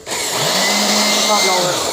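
2-in-1 electric blower and vacuum for cleaning computers or pisonet machines switches on and runs, a loud steady high-pitched motor whine and airflow roar rising quickly and holding for the rest of the moment.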